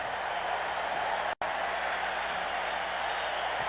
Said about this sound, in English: the crowd is breathlessly awaiting the conversion attempt